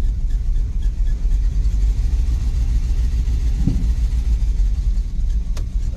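A wrecked 1987 GMC 4x4 pickup's engine runs at a steady idle, a close, loud low rumble with a constant throb and no clear revving.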